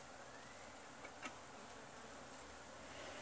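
Bees buzzing outdoors at a bee conservation project in the Amazon, a faint, continuous drone under quiet ambient noise, with one brief soft tick partway through.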